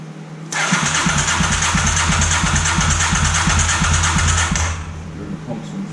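A 1983 Honda Shadow 750 motorcycle with newly installed carburetors cranks and fires up, its loud, rhythmic pulsing engine note running steadily close by before easing off near the end.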